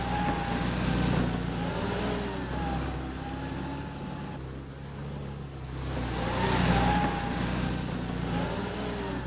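UAZ mini truck with an open cargo platform driving past, its mid-pitched engine swelling and fading twice as it revs and moves, fairly loud with no voices.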